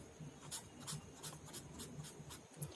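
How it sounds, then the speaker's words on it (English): Pen or marker strokes scratch across paper or a board while a decimal comparison problem is worked out, a run of short, evenly spaced strokes, quiet and close. "So I will write the equal symbol"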